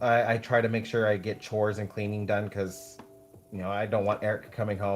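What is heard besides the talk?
No everyday noise stands out behind the speech.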